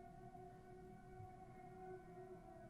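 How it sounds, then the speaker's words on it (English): A weekly Tuesday-noon civil defense test siren sounds outdoors in San Francisco, a faint, steady distant tone held evenly under quiet room noise. "That's just the weekly Tuesday at noon siren."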